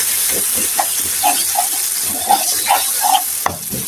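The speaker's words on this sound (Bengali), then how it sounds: "এখন ভালো করে টমেটোর সাথে মশলাটি ভালো করে আমি কষিয়ে নিব।" Spice masala with grated tomato frying in a pan, a close steady hiss with soft bubbling pops and stirring scrapes at an uneven pace, no talk.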